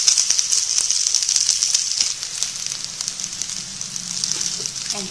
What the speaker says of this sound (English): And fry well.